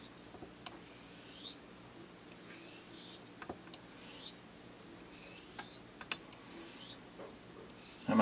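A straight razor's bevel is honed on a hone with tape on the spine, giving repeated soft rasping strokes in a steady back-and-forth rhythm, close and fairly quiet.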